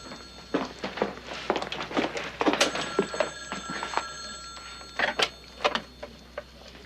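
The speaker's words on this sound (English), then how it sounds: "Pep, your phone." An old telephone bell rings in repeated jangling bursts, fairly close and fairly loud, with a few knocks and thumps among the rings and no speech.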